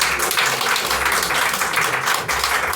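A church congregation applauds, a dense, even wash of many hands clapping that keeps going without a break, fairly close and with little voice audible.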